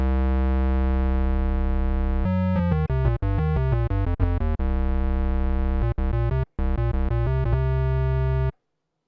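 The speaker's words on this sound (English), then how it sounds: "let's add a sine wave, tuned down an octave and a little lower in the mix for some added punch." A synthesizer plays a square-wave tone layered with a quieter sine wave tuned an octave lower, sounding a sequence of short melodic notes with sustained stretches, steady and loud, no voices.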